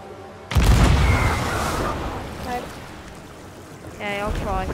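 A deep boom from a cannon launching a player in the pirate game Sea of Thieves opens with a loud blast, then a long rushing roar that fades, with brief voices later.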